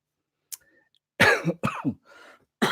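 A few sharp, close coughs and throat clearings in quick bursts, separated by brief silences.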